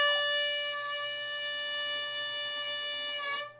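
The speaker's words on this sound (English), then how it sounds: "this is a note that's flat" A sustained bowed string note played flat and out of tune, a steady, rich tone holding for about three seconds before cutting off, heard alone and fairly close.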